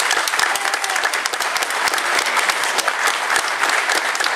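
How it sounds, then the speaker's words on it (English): A crowd at a Georgia district Republican convention applauds former candidates, steady loud clapping from many hands in an indoor hall, continuous and dense from start to finish, with no speech over it. "Chris Vaughn to stand up and get a round of applause."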